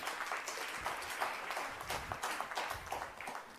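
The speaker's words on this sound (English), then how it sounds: "Only parents clapping." An audience at a speech applauds in a steady, moderately loud wash of clapping that continues throughout without any voices.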